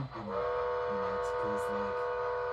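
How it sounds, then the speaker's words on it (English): A steam train whistle sounds loudly in one long, steady blast, with faint rumbling and chatter underneath. "That whistle sounds nice."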